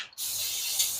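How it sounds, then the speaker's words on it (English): A short, close burst of spray hits the camera lens while a 2010 Nissan Murano's hub assembly is being cleaned, a steady bright hiss after a brief gap, with no talk. "just sprayed the camera"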